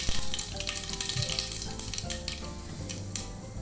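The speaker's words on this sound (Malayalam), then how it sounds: "കടുക് പൊട്ടുന്നു" Mustard seeds crackle and pop in hot oil in a pan, with dry red chillies going in, while making a broken wheat upma. Dense, continuous sizzling runs throughout with sharp scattered pops, close and fairly loud, and no voices.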